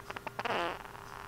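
A cartoon fart sound effect plays as one short comic burst, a brief blat that fades quickly, with faint background noise and no speech.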